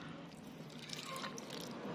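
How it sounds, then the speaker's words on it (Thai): Water poured steadily over rooting runner cuttings of Black Magic elephant ear (Colocasia), a continuous close, moderately soft pouring and trickling wash lasting the full stretch with no talking over it. "เราก็ จะเทน้ำลงไปค่ะ"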